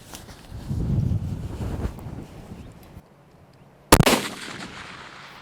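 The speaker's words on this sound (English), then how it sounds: "Shoot another one at it, Ray" A single sharp rifle shot fired at a 500 yard target on a windy range rings out near the end, following a stretch of gusting wind noise against the microphone.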